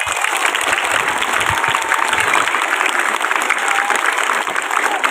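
Schoolchildren clapping together at a primary school literacy event, a steady, dense wash of applause that stays loud and unbroken throughout.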